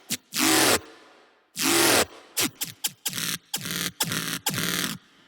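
A synth lead with a changed LFO setting plays a series of bright, buzzy, noisy stabs, two long swept notes followed by a run of shorter rhythmic hits, loud and close with no talking.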